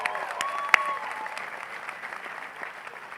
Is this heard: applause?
yes